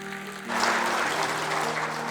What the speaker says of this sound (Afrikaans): Kom as jy ook vir hulle lekker hande klap.